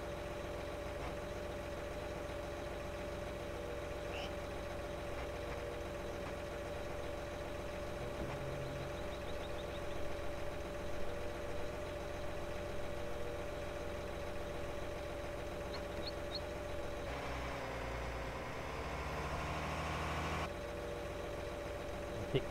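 A tractor engine idles steadily in Farming Simulator 19, a low continuous hum with a faint whine, shifting briefly in tone near the end.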